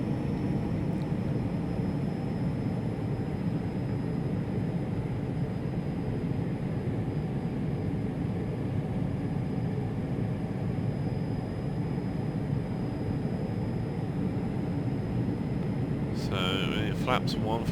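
Aircraft engine roar in the Prepar3D flight simulator on the takeoff roll from London City, a steady broadband rumble holding throughout with brief sounds near the end.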